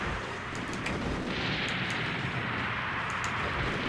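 Missiles launching and blasting in the Zoids Battle Legends video game, a dense continuous rumble of explosions with brief bright bursts, loud and sustained throughout with no voices.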